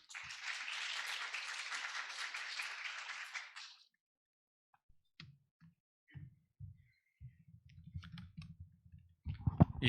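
An audience at a Korean mental health social work academic conference claps to welcome a panelist, a director of a mental health welfare center. Dense applause lasts about four seconds, then gives way to near silence with scattered faint clicks and low bumps.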